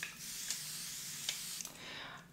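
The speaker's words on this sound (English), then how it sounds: "I like to spray generously a Veen thermal spring water" Avène thermal spring water misted onto a face, three or four short close hissing spray bursts in a quiet room, each a soft airy puff.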